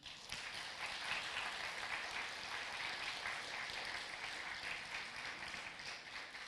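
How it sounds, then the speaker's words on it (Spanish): A church congregation applauds in a dense, continuous wash of clapping that fills the room at an even level for several seconds. "Denle un aplauso a Jesús."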